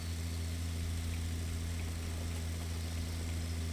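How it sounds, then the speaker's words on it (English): Tractor engine from the Pure Farming 2018 farming game, a steady, loud low rumble with strong droning hum that holds at a constant pitch throughout, close and alone with no voices. "This is a very powerful tractor, comparatively speaking, and we are barely moving."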